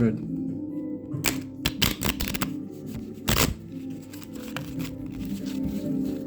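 Deck of playing cards shuffled by hand in a quiet room, with quick riffles and sharp card slaps in bursts, close and fairly loud, with short gaps between the shuffles.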